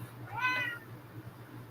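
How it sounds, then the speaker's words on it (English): A cat gives a single short meow, fairly faint, over a low steady background hum in an indoor art studio. "This cat."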